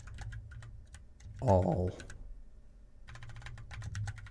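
Typing on a computer keyboard while coding, a quick run of light clicks at the start and again near the end, with a short spoken word in between.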